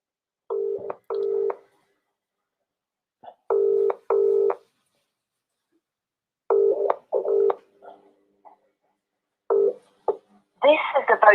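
Cold-call phone line ringing out: repeated paired ring tones in evenly spaced bursts, loud and close through the handset, with a short burst of a voice at the end.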